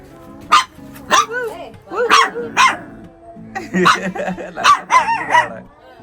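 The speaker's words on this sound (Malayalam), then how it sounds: "എന്തോരം പട്ടിക്കുട്ടികളെ നോക്ക് ഗൈസ്." Many puppies bark and yip in quick, high-pitched bursts, close by and fairly loud, overlapping one another throughout.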